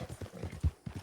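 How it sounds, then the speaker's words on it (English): Horse hooves galloping in Red Dead Redemption 2, a quick rhythmic series of close, fairly soft thuds over about a second with no voices. "Horse is getting agitated, but I know he's got some more in him here before we gotta slow down."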